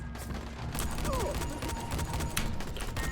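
Rifle fire in a multiplayer shooter game crackles as rapid, repeated sharp shots over a busy game soundscape, with occasional mechanical clicks and some faint voices.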